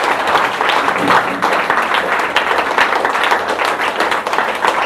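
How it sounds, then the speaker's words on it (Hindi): A crowd at a gathering breaks into loud, sustained applause for the speaker's husband, a thick wash of many hands clapping continuously at close range. "मैं चाहूँगी कि इनके लिए ज़बरदस्त तालियां चाहिए।"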